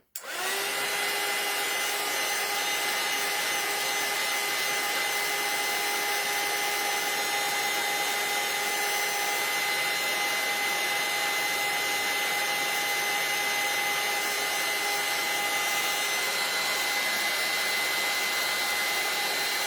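A hair dryer blows at close range to dry glue on a wool spool craft, a loud, steady whirring hiss that kicks on abruptly and runs unbroken to the end.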